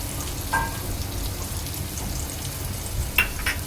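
Onions sizzle steadily in hot oil as asafoetida and turmeric go in for a Koli-style prawn curry, with a couple of brief clinks near the start and end.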